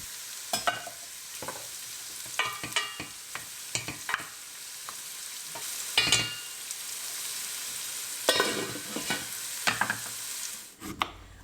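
Vegetables sizzle steadily in a hot pan, broken by several sharp scraping stirs at irregular intervals; no one speaks.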